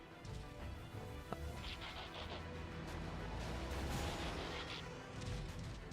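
Gunfire in the video game Transformers: Devastation, a dense, steady barrage of blasts and booms with sharp cracks over continuous game noise, fairly quiet overall.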